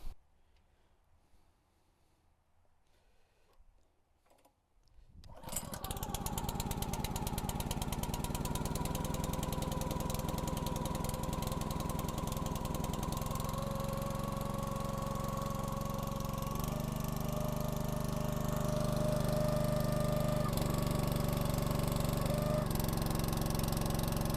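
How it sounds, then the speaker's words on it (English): After a few seconds of near quiet, a small log splitter engine starts up and runs steadily at a low, even idle, turned down low, loud and close throughout. "Now I've turned the engine down pretty low because we're not really worried about the speed of the splitter"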